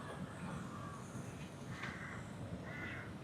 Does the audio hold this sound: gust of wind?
no